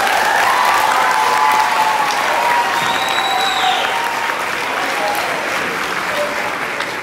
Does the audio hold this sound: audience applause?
yes